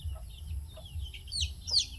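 Hen with five chicks clucking and peeping, soft intermittent calls rising to a brighter chirp near the end over a low rumbling background.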